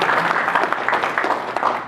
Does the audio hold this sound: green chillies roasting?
no